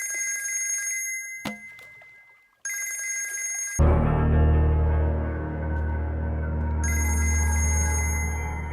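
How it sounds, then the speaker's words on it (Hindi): A telephone rings in short bursts of bright, trilling tones. Swelling music then rises and drowns it out. "राशिद भाई कब से फोन कर रहे हैं?"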